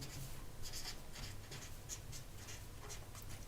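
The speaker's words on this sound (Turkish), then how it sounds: "Ribozomun görevini yazıyorum arkadaşlar." A pen writes out an answer during a biology lesson, making faint, quick scratching strokes in an irregular rhythm, close and soft with no talking.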